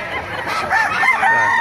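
A rooster at the Bocaue pet market crows loudly and close, one full drawn-out call with rising and falling harmonic tones, heard alone without talk.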